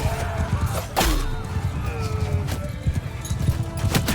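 Horse in the medieval battle game Mount and Blade II Bannerlord, with a loud neigh and steady clip-clopping hooves amid battle noise and a speaking voice.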